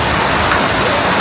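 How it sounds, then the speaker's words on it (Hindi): Hailstones pelt an apple orchard in a dense, loud, continuous hiss of countless rapid impacts with no pauses or voices. "ओले फिर आ गए।"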